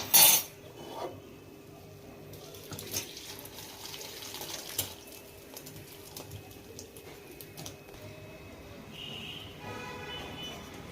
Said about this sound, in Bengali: সয়াবিনগুলো আমার সিদ্ধ হয়ে গেছে এরপর আমি ঢেলে নিচ্ছি